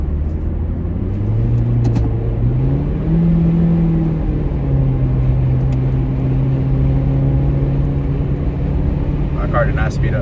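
A car engine in a video game drones and rises in pitch as it revs, a loud steady rumble that climbs and then holds level, with a few faint clicks near the end.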